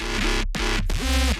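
A heavy synth bass line for an Ultrakill-inspired album, looping a loud, buzzing riff in short repeated phrases with two brief dropouts, playing alone.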